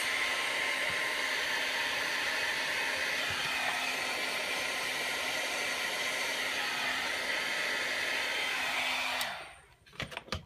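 A handheld heat tool blows steadily to dry ink before alcohol marker coloring, a loud, even whooshing hum that cuts off near the end, followed by a few faint handling sounds.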